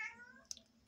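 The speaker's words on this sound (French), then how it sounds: "C'est le chat du voisin." A neighbour's cat gives a single drawn-out meow, quiet and somewhat distant, with a faint soft click just after it and no talking.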